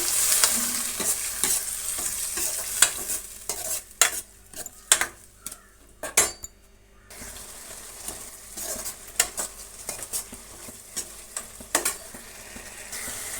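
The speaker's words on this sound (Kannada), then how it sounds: "ಈಗ ಕೊತ್ತಂಬರಿ ಸೊಪ್ಪು ಬೆಳ್ಳುಳ್ಳಿ ಟೊಮೆಟೊ ಮತ್ತು ಶುಂಠಿ ರುಬ್ಕೊಂಡಿರೋ ಮಸಾಲೆನ ಹಾಕೋಣ ಒಂದೆರಡು ನಿಮಿಷ ಫ್ರೈ ಆಗಲಿ" A ground masala of coriander leaves, garlic, tomato and ginger frying for soya gravy, with a steady sizzle broken by sharp clinks and scrapes of a utensil against the pan, close up, a brief quieter gap midway, no talking.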